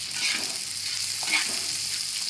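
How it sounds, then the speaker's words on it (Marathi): Chopped onions frying in hot oil in a home kitchen pan, giving a steady broadband sizzle with a few soft stirring scrapes, close and even throughout, with no talking. "ते चांगले परतायचे कांदे तेलामध्ये"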